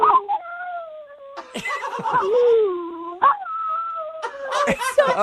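A dog produces drawn-out, pitch-bending whines and howl-like vocalizations in a few phrases that mimic human speech, close and clear, with laughter breaking in between.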